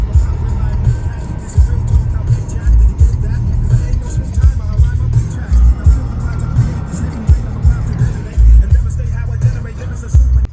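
A car drives through traffic, its interior hum steady with low thumps and bumps from the road, while people talk inside over the engine noise.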